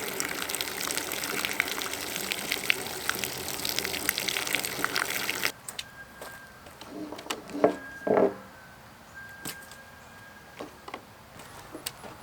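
Water gushes and splashes steadily for several seconds, then stops abruptly, leaving a few faint drips, clunks and a short squeak in the quiet.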